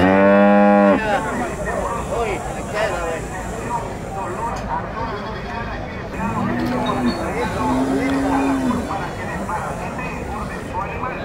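Dairy cows lowing at an open-air livestock market in El Salvador, a loud moo opening the clip and two more mid-clip, over a busy crowd with people talking throughout.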